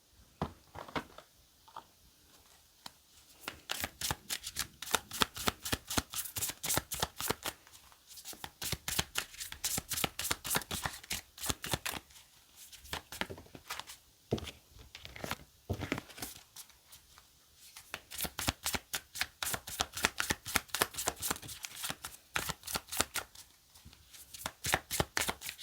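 Tarot cards are shuffled by hand at close range, long runs of rapid crisp riffling flutters with short pauses between bursts, quiet overall and without talk.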